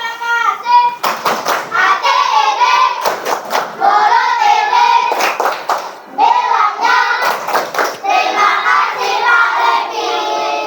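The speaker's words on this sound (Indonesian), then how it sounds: "tepuk terima kasih dulu boleh" Fifth-grade pupils in an Indonesian classroom perform a rhythmic group clap, several bursts of loud, sharp hand claps in patterned rhythm between stretches of lively children's voices and chatter.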